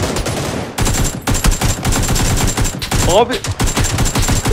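Bursts of automatic gunfire in PUBG as a teammate opens fire, loud rapid volleys in several clusters with brief gaps, mixed with a player's shouted voice.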